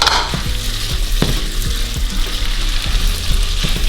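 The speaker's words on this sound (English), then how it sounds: "So at this point, I'm gonna start putting my mixed vegetables." Green beans frying in a hot pan for fried rice, a steady loud sizzle with scattered stirring clicks and scrapes of the utensil throughout.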